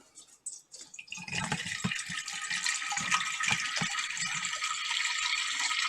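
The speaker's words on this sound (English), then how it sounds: "We're gonna go ahead and fill this up with water." Filtered water runs from a kitchen tap into a pot, starting with a few splashes and then settling into a steady, close hiss.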